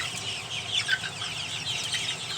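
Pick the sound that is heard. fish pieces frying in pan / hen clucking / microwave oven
hen clucking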